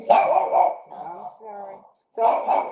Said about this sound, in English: So, I'm sorry that my background noise is barking.